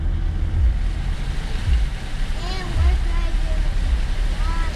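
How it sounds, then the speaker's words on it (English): A vehicle splashes through foot-deep salt water on a road heading down toward a Florida beach, giving a continuous churning wash of water and engine rumble with rhythmic low thumps and some muffled voices. "Okay, so we're driving through water, trying to get down to the beach."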